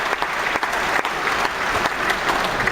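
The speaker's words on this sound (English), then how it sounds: "They're giving you a huge round of applause." Studio audience at a TV quiz show bursts into loud, sustained applause and cheering, a dense wall of clapping that holds steady throughout with no voices above it.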